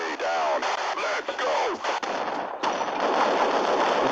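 Gunfire from a shotgun in the video game Half-Life, a dense run of loud, rapid blasts crowding the first half, followed by a steady roar of continued firing and game noise.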